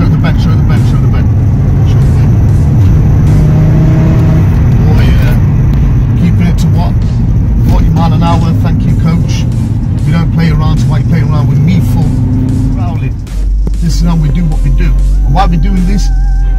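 An Audi RS3 being driven hard through bends: a loud, close engine drone rises and falls with revving and acceleration, with someone talking over it much of the time before the engine note drops to a low rumble.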